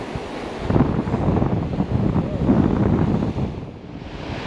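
Surf fishing on an ocean beach: steady broadband rush of waves and surf mixed with gusting wind buffeting the microphone, continuous and fairly loud throughout with swells of intensity.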